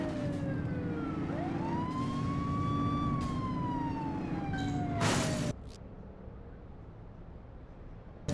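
A police car siren in the video game The Precinct wails with sweeping rising and falling tones over a low engine rumble, then cuts off abruptly, leaving a quieter background hum.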